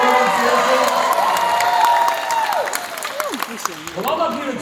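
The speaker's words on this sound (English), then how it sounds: "give yourself a round of applause for being here." A conference audience applauds and cheers a speaker on stage, a dense wash of clapping and whoops that fades over a few seconds while voices talk over it.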